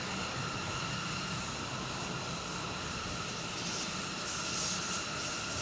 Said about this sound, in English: as another train goes past on the main line